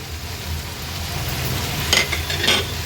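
Black pepper prawns with chopped tomato sauté on a high flame, giving a steady, loud broad sizzle with a couple of brief metallic stirring scrapes near the end.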